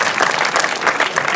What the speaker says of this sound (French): Vous pouvez également les applaudir